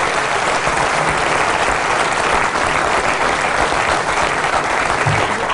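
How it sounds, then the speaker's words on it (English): An audience claps loudly and continuously after a pool trick shot, a dense, even wash of applause from a large crowd lasting several seconds. "Come on, give him applause."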